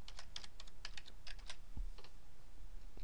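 Keys clatter on a computer keyboard while text is entered in Excel, a quick run of close, light taps that slows to a few scattered strokes.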